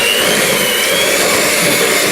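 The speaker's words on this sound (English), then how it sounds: "And I'm going to mix this through with the whisk." An electric hand whisk runs steadily at low speed, blending full fat cream cheese for a no-bake lime cheesecake; a constant close, loud whirring motor hum with no talk.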